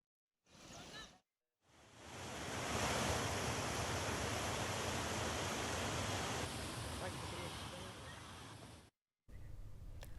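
A rain-swollen stream rushes across a road after heavy rain in Telangana, a loud, dense, continuous roar of water for several seconds, with a short voice-like burst at the start and a brief break near the end.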